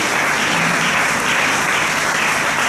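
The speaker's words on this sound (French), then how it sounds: "Est-ce qu'on peut l'acclamer encore très fort?" A church congregation applauds loudly and steadily at a French-language service, a dense wash of clapping filling the whole moment without a break.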